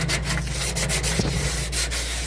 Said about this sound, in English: I am gonna sand it.